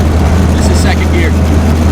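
A 1947 Willys Jeep engine driving in second gear, a loud steady low rumble with road noise throughout, and a person speaking over it.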